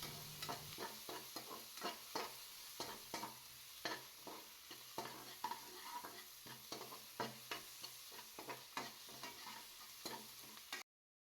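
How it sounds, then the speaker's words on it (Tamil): Shallots and onions are sautéed in oil for a village-style country chicken curry, with a soft steady sizzle and repeated sharp stirring scrapes of a spoon against the pan, close and quiet, no talk. "இந்த சின்ன வெங்காயம் பல்லேரி வெங்காயம் இதையும் சேர்த்து நம்ம எண்ணெயிலேயே நல்லா வதக்கி"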